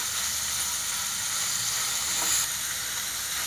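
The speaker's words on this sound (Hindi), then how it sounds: "इसको हम अभी थोड़ा कच्चापन दूर होने के लिए फ्राई करेंगे।" Onions fry in a pan, giving a steady, close sizzling hiss that swells briefly as they are stirred, with no talking.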